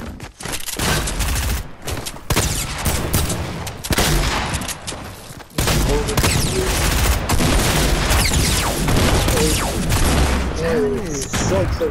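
Dense video game gunfire from two players shooting at each other, a near-continuous clatter of shots and impacts with loud bursts throughout, while a voice talks over the fighting.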